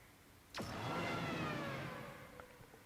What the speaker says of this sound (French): Si vous arrivez à entendre le bruit du moteur de cette voiture, je pense que vous allez tomber amoureux de cette voiture.